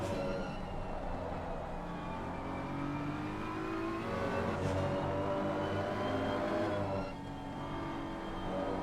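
BMW race cars lapping Laguna Seca during a four-hour endurance race, engines droning steadily and close together with rising and falling pitch as they run nose to tail, a continuous loud roar with no gaps.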